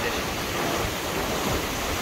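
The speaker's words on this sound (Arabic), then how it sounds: "شوفوا المواج كي راه داير عاود شوف البحر راه محرك" Rough sea surf at Saidia beach after floods, a dense continuous roar of waves and churning water, loud and close throughout, with some wind buffeting.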